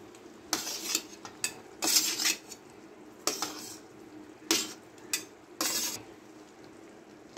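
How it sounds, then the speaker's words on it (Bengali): A metal spoon stirs a pot of soybean and fried potato curry in repeated bursts of scraping and clinking against the pot, with quieter pauses between strokes. "ভালো করে আবার নেড়ে দিচ্ছি।"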